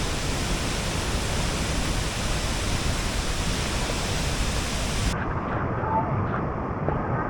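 Tapia waterfall near the Batad rice terraces thunders in a dense, unbroken roar of rushing water close by. The roar holds steady throughout, then drops to a duller, more muffled tone for the final couple of seconds.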